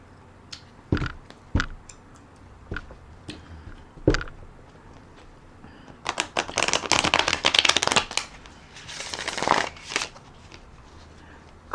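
Tarot cards being shuffled by hand, scattered soft taps and riffles at first, then dense flurries of papery shuffling that come and go, close up with no talking.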